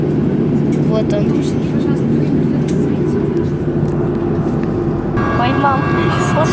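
Steady, loud roar of airliner engines heard from inside the cabin while the plane waits on the ground before takeoff, a constant low drone with faint voices and cabin sounds over it.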